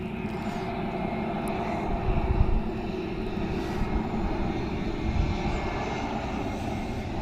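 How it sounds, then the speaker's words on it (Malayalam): An IndiGo passenger plane arriving from Bangalore comes in to land at Karippur Airport, its engines a loud sustained roar that swells a little as it passes, with no talking. "ഇത് ബാംഗ്ലൂരിൽ നിന്ന് വരുന്ന ഫ്ലൈറ്റാണ്"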